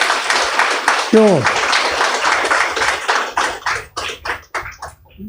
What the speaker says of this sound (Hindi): जोर से ताली बजाओ अपने के लिए